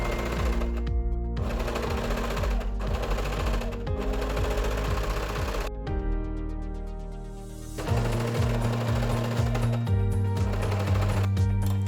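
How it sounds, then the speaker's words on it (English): A sewing machine stitches ribbon onto a baby bodysuit, its close, steady mechanical whir running continuously with brief pauses and changes in speed, alone without talk. "sew the ribbon onto the back piece"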